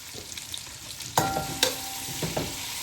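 Onions frying in oil for Hyderabadi mutton dalcha, a steady crackling sizzle with a few sharp metallic clinks and scrapes of a spoon on the pan, close and moderately loud.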